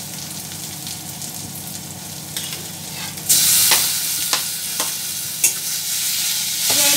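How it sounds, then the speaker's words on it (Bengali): Chopped tomato sizzles in a pan with browned onion while being stirred, a constant hiss of frying broken by sharp scraping strokes and a louder burst of sizzle as the mixture is turned; one brief spoken word. "ভালোভাবে পেঁয়াজের সাথে টমেটোটা ভেজে নেব"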